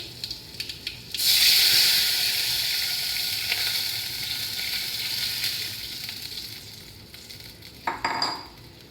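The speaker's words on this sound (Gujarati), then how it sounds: "અને આપણે જે છાશ લીધી હતી એ એડ કરવાની છે" Buttermilk hits a hot pan with garlic for a spicy Gujarati dhokli curry, bursting into a loud, steady sizzle after a second of quiet that slowly eases off, with a brief flare of spitting near the end.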